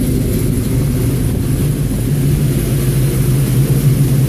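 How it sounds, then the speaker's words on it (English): A 1980 Buick Regal engine runs steadily after a timing adjustment, a loud, continuous low rumble with a smooth, even idle and no pauses. "Engine runs pretty smooth."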